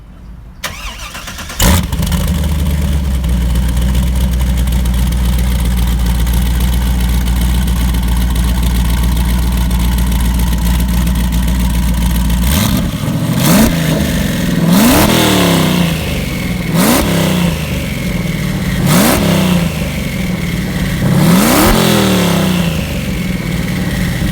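A 1200-horsepower twin-turbo 2005 C6 Corvette engine cranks and fires up, settles into a loud throbbing idle, then is revved sharply several times in quick bursts.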